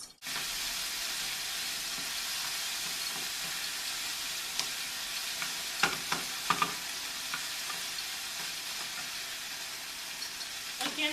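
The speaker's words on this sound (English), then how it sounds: "I put my onion, my pepper, and a little bit of garlic. You're just going to let that cook for until it's like golden" Onion, pepper and garlic fry steadily in a pan with a constant close sizzle, broken by a few scraping stir sounds near the middle and end.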